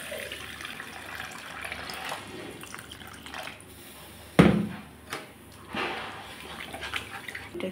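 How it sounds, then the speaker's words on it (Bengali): Water poured into a pot of taro being cooked with spices, a soft running splash under faint background noise with a few clanks and knocks from the pot. "এখন দিয়ে দিচ্ছি জল, পরিমাণ মতো জল দিয়ে দিচ্ছি।"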